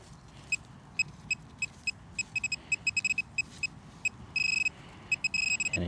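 A Minelab Equinox metal detector with a 6-inch Sniper coil beeps on a target outdoors, a rapid run of short high-pitched tones, some held longer, in irregular bursts over soft background noise.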